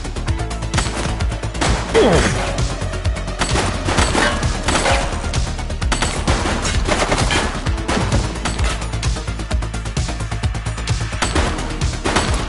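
Dense, rapid automatic gunfire rattles continuously through a video game firefight, loud and sustained with bursts overlapping and a heavier crash near the start.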